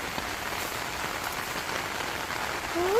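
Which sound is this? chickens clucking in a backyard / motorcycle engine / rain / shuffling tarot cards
rain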